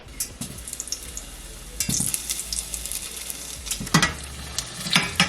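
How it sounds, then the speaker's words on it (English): Smashed pieces of food frying in hot oil, with a crackling sizzle that swells in bursts while a utensil scrapes and stirs the pan nearby. "And we're gonna fry these up really quick."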